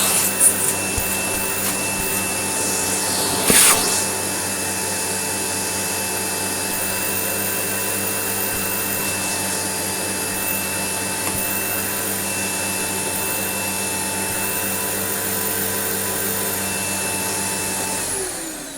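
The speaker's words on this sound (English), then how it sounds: "I think this is the only cleaning fan upright I've ever known to have suction that's worse than a Hoover turbo power." A Dirt Devil Eclipse Plus upright vacuum cleaner, a clean-fan design, runs steadily and loud at close range with a whining motor drone and a brief bump early on, no voices.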